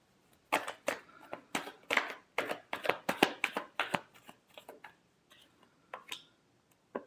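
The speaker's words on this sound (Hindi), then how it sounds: "last shuffle" Tarot cards being shuffled by hand in a quick run of crisp, riffling snaps and taps, close and fairly quiet, thinning to a few scattered flicks toward the end.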